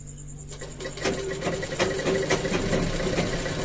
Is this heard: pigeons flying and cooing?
no